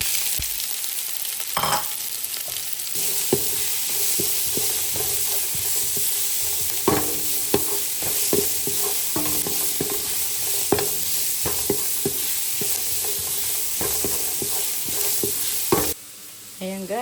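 Onion stirred and frying in a pan, a steady loud sizzle broken by many sharp spatula scrapes and taps in irregular rhythm, close up, with a brief quieter stretch near the end.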